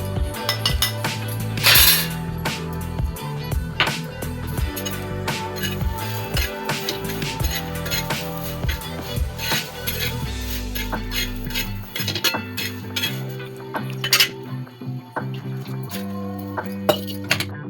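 Green chilli, garlic and salt are pounded into thecha with a metal pot, making rhythmic clinking and knocking strikes that repeat steadily, close and loud, with some clattering against the vessel throughout.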